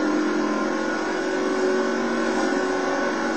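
A rally car engine in the video game BAJA Edge of Control, racing the SCORE Baja 500, drones at steady high revs without pause, loud and continuous.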